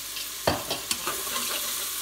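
Tomato paste being stirred into vegetables in a pan for pea soup, with a few scraping spoon strokes over a steady soft sizzle, near and clear with no talking.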